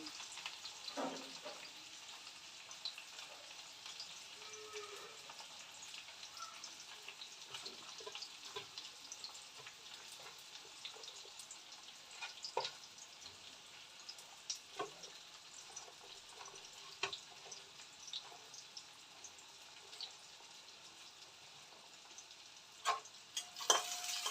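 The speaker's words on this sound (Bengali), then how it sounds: "তেলের মধ্যে দিয়ে দিলাম পেঁয়াজটা" Onion frying in hot oil in a home kitchen, a soft, steady sizzle that runs throughout with occasional faint clicks and taps from stirring.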